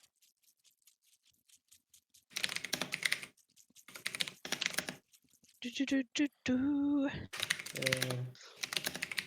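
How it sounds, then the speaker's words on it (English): Computer keyboard typing comes in quick bursts of clicky keystrokes with short pauses between them, close up, and people talk in between and over the typing. "Starts typing."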